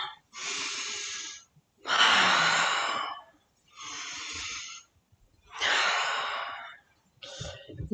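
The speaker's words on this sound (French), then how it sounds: "Elle inspire. On ouvre et elle expire" Slow breathwork breathing, with long deep inhales and exhales alternating in a steady rhythm of about four full breaths, close and clear, with no talking.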